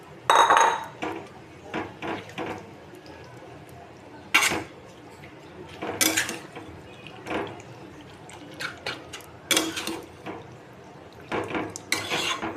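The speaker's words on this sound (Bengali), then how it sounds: "ম্যারিনেট করা মাটন পুরো ঢেলে দেবো। আজকের মাটনটা আমি পুরো কড়াইতেই রান্না করব" Marinated mutton tipped into a kadai and stirred, giving intermittent scraping and clattering bursts of a spoon against metal over a quiet background, close by, with no voices.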